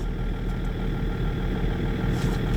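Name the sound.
Range Rover L322 engine idling as drive is engaged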